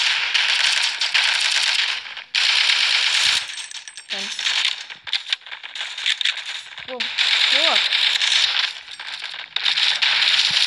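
Gunfire in the mobile shooter Forward Assault, with bursts of rapid shots and metallic rattles heard loud and close, broken by brief pauses and clinking sounds, while a player speaks excitedly over it.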